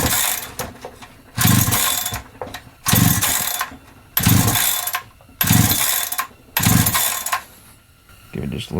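Five strong, evenly spaced bursts of a Holzfforma G372XP chainsaw's starter cord being yanked with choke and decompression set, each a loud rasping whir that dies back to quiet between pulls; the engine never catches.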